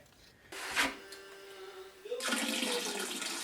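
Water gushes into a brewing vessel during a Kolsch homebrew, starting with a bump and brief splash, then swelling into a steady, close rushing pour.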